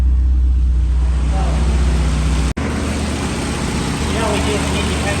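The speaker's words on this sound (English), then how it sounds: "Right, so we have a pretty good idle speed. It looks like probably around 900." A 1983 Porsche 924 engine idles steadily at around 900 rpm, a loud continuous low rumble heard up close, briefly interrupted by a sharp dropout midway.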